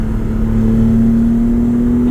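A BMW E30 333i engine drones steadily under load in fifth gear at about half throttle, a sustained hum rising slightly in pitch as it accelerates, with road noise beneath.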